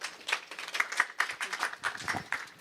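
Audience clapping for a speaker being introduced at a venture capital panel event, a moderate patter of hands with individual claps standing out, fairly thin and close rather than a huge roar.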